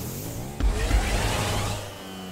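A car in the video game GTA V accelerating under turbo boost, a sudden engine surge with a rising whine that swells and then tapers off, loud and up front.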